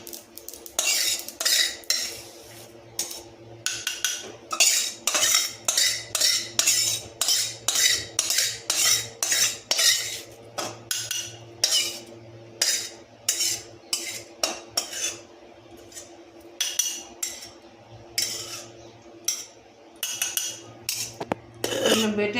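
A metal utensil scrapes and clinks rapidly against a pan while lifting out fried vegetables, giving dense bursts of close, sharp clatter with short pauses between.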